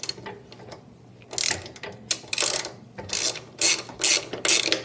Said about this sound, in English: you just use a 7/16 wrench to just loosen it